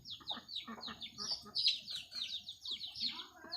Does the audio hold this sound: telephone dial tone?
no